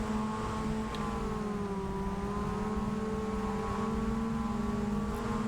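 A high-pitched, whiny vehicle engine in Farming Simulator 22, a steady droning whine held at a fairly constant pitch, loud and close throughout.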